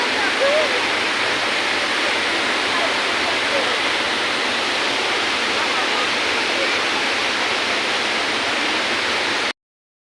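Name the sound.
water rushing forcefully at Neyyar Dam in monsoon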